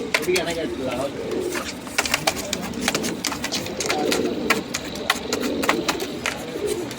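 Allahabadi pigeons coo in soft, repeated low calls close by, with sharper chirps and clicks scattered throughout.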